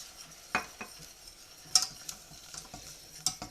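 Flour is stirred into melted butter in a pan for a béchamel sauce for lasagne: quiet, intermittent scraping and clinking strokes at an uneven rhythm, close by, with no talking.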